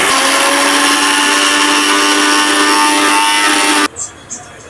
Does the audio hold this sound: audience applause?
no